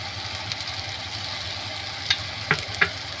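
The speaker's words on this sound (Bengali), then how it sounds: "2 চামচ আদা জিরে বাটাটা আমি দিয়ে দেব।" Ginger-cumin paste frying with tomato in a pan for pangas fish curry, a steady soft sizzle with a few brief stirring clatters near the end, close and moderately quiet.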